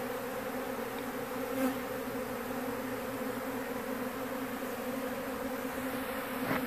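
Honeybees in a dense swarm during a hive removal, buzzing in a continuous, even drone, close and steady throughout.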